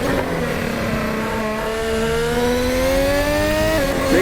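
A 2022 Formula 1 car engine revs and accelerates loudly up through the gears on the Goodwood hill, with steady rising harmonic whine, a brief drop near the end, close and continuous without talk.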